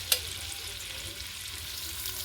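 Butter and oil heating in a pan give a soft, steady sizzle with a faint hiss, close by, with one brief sharp click near the start.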